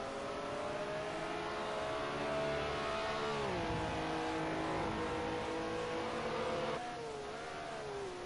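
BMW M1 Procar race cars in a racing game, a steady loud engine drone with rising and falling revs as gears shift, continuous throughout with no voices.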